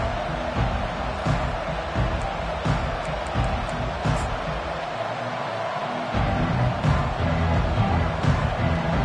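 A football stadium crowd roars and cheers continuously from a distance, a broad sustained wash of noise that swells near the end, with no clear speech over it.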